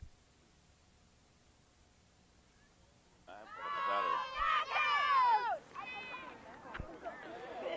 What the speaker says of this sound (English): the gallery behind us really cheering those knockouts on